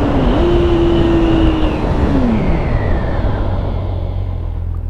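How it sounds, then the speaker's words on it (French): A Honda CBR600F motorcycle engine winding down under braking on the road, with a steady loud tone dropping in pitch over heavy wind rush close to the rider. "Regardez le freinage."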